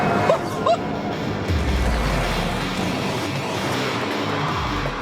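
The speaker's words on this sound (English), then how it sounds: "this car has the supercharged V8 from the Ford GT." A supercharged V8 Ford Mustang engine, sharing the Ford GT's engine, roars loudly and steadily, with a deep rumbling growl that rises and falls slightly as it accelerates.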